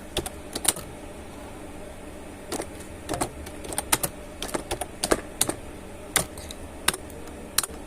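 Rapid, irregular key clicks from typing on a computer keyboard, heard close up in bursts with short pauses and no talking.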